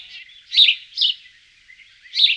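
Tits call at a freshly hung fat ball feeder in a garden, giving three short, bright chirps over a faint, thin background twitter, with no voices.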